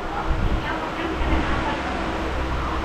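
A Trichy to Tambaram MEMU express train runs along the line, heard from inside the coach as a steady low rumble with rhythmic rail clatter and a continuous wash of noise.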